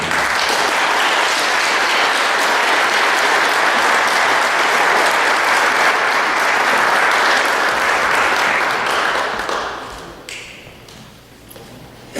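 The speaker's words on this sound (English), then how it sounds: "So when we give the applause for you, we'll give it for Steve Harris as well." Sustained audience applause at a 2014 awards ceremony, dense and loud for about ten seconds before thinning out to scattered claps.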